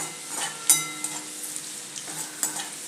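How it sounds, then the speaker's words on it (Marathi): Chopped garlic sautéing in hot oil for a besan bhindi fry, a steady soft sizzle with occasional scrapes and clinks of a stirring spoon against the pan. "लसूण थोडा व्यवस्थित तेलात परतायचा"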